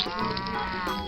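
A cow in the video game Mini Block Craft gives one sustained, harmonic-rich moo lasting about a second, close and clear with no talking.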